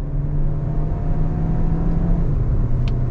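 A 2022 VW Taos small SUV accelerates in second gear, its engine a steady low hum and drone heard from inside the cabin, with no talking.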